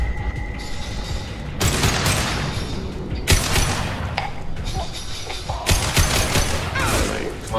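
Heavy gunfire from a firefight against mercenaries in the video game Mass Effect 2, with loud bursts of shots and booming impacts coming in waves and filling the clip, plus a faint game voice at the start.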